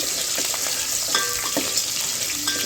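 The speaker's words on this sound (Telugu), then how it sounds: "ఒక మూడు పచ్చిమిర్చి అయితే వేసుకొని బ్రౌన్ కలర్ వచ్చే వరకు అయితే ఫ్రై చేస్తున్నానండి" A medium onion and three green chilies fry with spices in a pan, giving a steady close sizzle with occasional stirring scrapes, no talk.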